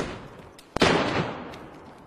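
A single sharp gunshot cracks in the video game DayZ, followed by a long fading echo tail that decays over more than a second.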